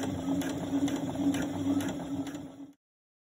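A sewing machine runs steadily, stitching along a dress neckline a centimetre from the edge, with a constant motor hum and a fast, even needle clatter that stops abruptly near the end.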